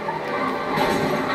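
A car slams into another in a racing video game, a brief noisy crunch and thud with a rough impact tail, heard alone.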